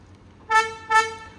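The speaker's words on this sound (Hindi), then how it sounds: "ये हॉर्न की आवाज़ बहुत बेकार लगती है मुझे" Two short, single-tone honks from the horn of a 2025 Kia Seltos HTE (O), evenly spaced, bright and buzzy against a quiet background, with no talking.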